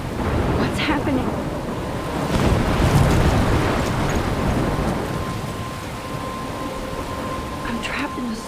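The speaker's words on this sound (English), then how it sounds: "I'm trapped in a storm?" Thunderstorm in the video game Life is Strange: steady heavy rain hiss with a rolling rumble of thunder swelling around the middle, continuous and fairly loud throughout, with a faint voice speaking beneath.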